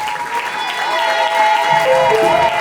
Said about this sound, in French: Les femmes, est-ce que vous pouvez applaudir pour vous-même, s'il vous plaît, de là où vous êtes?